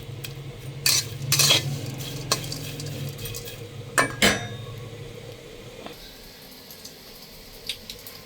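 Dried fish (shutki) frying crisp in oil in a pan, stirred with a utensil that scrapes and clinks against the metal in bursts, over a steady low sizzle that fades toward the end.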